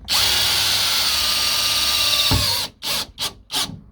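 A power drill drives a screw through a tin sheet on an insulated shower cubicle panel, whirring loud and steady for over two seconds, then stopping as a few short bursts of the motor trigger in quick succession.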